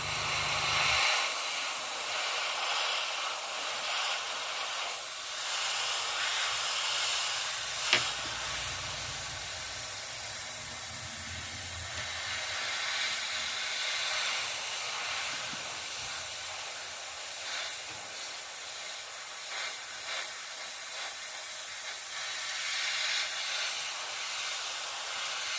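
A Gaahleri Seeker airbrush sprays air in a continuous, steady hiss lasting the whole stretch, fairly close and even, with a small click partway through and no voices.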